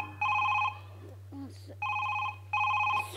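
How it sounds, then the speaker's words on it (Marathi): A telephone rings in a comedy sketch setting: three short electronic ring bursts, fairly close, with a brief voice heard between the rings. "सर इथं फोन वाजतोय सर"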